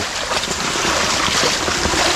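A loud, constant roar of rushing flood water in Ratnagiri during rain fills the whole stretch, dense and unbroken, with gusty wind buffeting mixed in.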